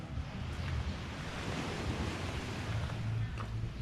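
Steady surf at Lamai Beach, Koh Samui, Thailand, a continuous rush of waves with wind buffeting the microphone and no voices.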